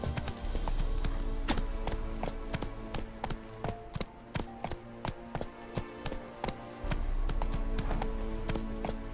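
Roach, the horse in The Witcher 3, gallops with a quick, even clip-clop of hooves that runs all the way through, loud and close and carrying on alone.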